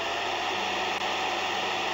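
A vacuum cleaner drones from the video game Gabriel Knight: Sins of the Fathers, a steady loud motor whine with airy hiss that holds unchanged throughout, with no talking.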